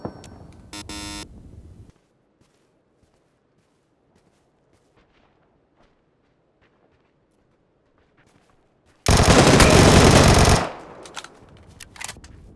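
A short burst of loud rapid video-game gunfire opens, then near silence, then a longer, very loud sustained volley of automatic fire.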